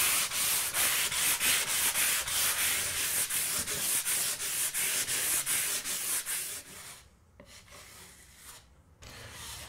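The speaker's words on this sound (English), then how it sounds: "I'm going to sand back the excess before applying a second coat of plaster" Excess plaster on a plasterboard wall repair is sanded back with rapid, rhythmic back-and-forth rasping strokes, close and steady, then slowing into a few separate strokes before stopping.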